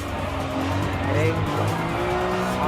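A Ferrari F50 in Gran Turismo Sport revs steadily through a technical corner with faint tire squeal, the engine loud and continuous under a speaking voice.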